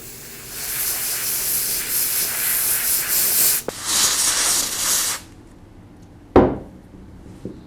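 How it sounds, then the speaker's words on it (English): Carburetor cleaner sprayed in long hissing bursts onto small parts from a Ryobi string trimmer carburetor, close and loud, followed by silence and one brief sharp hiss near the end. "I found that the small parts are easiest to clean with just some carburetor cleaner and a rag."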